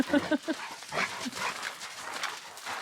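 Dogs barking several times in short bursts at the start, followed by scuffling and noisy background activity during an attic conversion.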